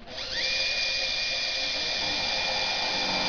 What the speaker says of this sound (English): Till I drill it. Just to get it started.